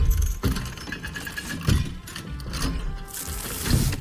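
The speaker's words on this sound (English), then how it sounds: "Just put the key into that lock, brother." A key rattles and slides into a lock in God of War Ragnarok, a brief metallic jangle amid busy game ambience.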